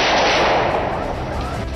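Gunfire cracks out during a sudden street shootout near an office on a busy city road, a dense loud volley of overlapping shots that decays into reverberant rumble.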